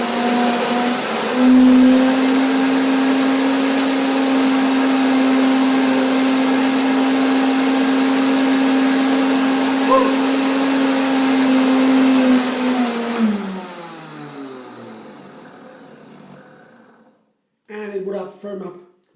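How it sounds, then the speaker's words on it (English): A blender whirs loudly with a steady high-pitched motor drone for several seconds while mixing a mulberry banana mango cake mixture, then winds down and stops, followed by a brief voice. "1 more blender dance."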